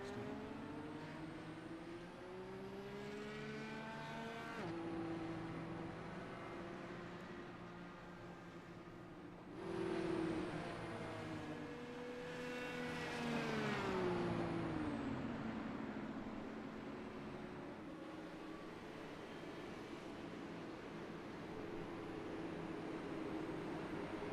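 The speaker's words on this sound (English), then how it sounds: "I did crank up the engine noise a little bit." IndyCar racing video game engines drone steadily at close range, with rising and falling revs as gears shift, including two strong upswings through the middle.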